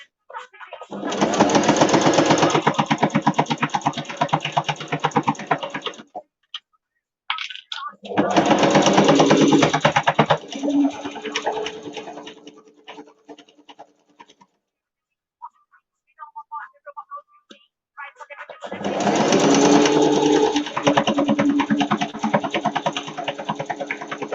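A sewing machine stitches a children's book cushion in three loud, fast-running bursts of close mechanical whirring and ticking, separated by pauses with only faint handling sounds, without talk over the stitching.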